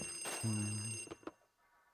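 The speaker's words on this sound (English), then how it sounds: "And there's another phone call." Telephone ringing in the Luigi's Mansion video game, a short electronic ring burst with sustained tonal harmonics followed by a couple of brief clicks and quiet pauses.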